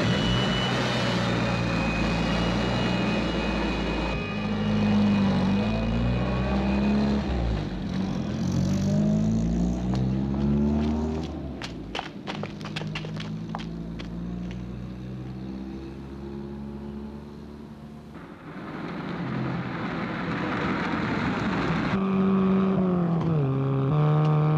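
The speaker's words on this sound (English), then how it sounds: "Doing the engine any good, Jeff." A car engine revving hard while driving in a 1969 television drama, a loud continuous roar whose pitch climbs and falls, dipping briefly midway before surging again, with no talk over it.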